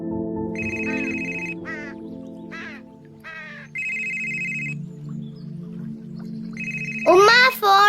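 A mobile phone ringtone sounds in a short film, playing as three separate bursts of a bright electronic tone. Other voice-like sounds and chirps come between the bursts, and a louder sound rises at the end.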